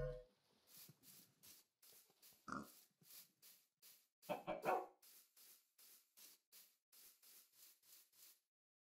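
A dog barks repeatedly in the video game Minecraft, a long, evenly spaced series of sharp barks with a couple of louder, busier game noises in the middle.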